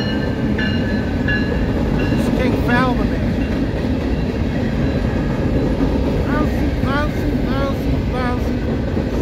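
A CSX freight train rumbles past steadily with rolling rail noise and occasional squealing wheels, while a person speaks briefly over it.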